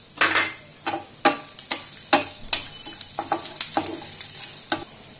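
Whole cumin seeds, black peppercorns and cloves dry-roasting in a pan, with repeated sharp scraping strokes of a spoon against the metal over a light sizzle and rattling spices, close and fairly loud.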